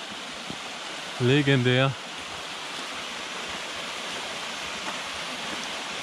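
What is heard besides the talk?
waterfall rushing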